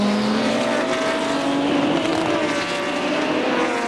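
A pack of 1985 IMSA sports prototypes, including a Buick March, roars off at the green flag start at Portland, their engines blending into a loud, sustained racing drone.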